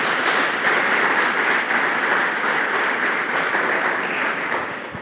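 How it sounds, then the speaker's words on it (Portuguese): A church congregation applauds loudly together during worship, producing a continuous, even roar of hand clapping that holds for several seconds with no talk over it and then tapers slightly at the end. "aplauda bem forte o nome de Jesus"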